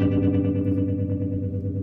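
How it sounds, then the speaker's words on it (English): Electric guitar through the tremolo effect of a Gibson GSS100 amplifier, settings maxed, ringing chords pulsing in a steady rapid throb, loud and close with no talking. "So this is currently the tremolo, and everything is up all the way so you can hear the how intense it can get."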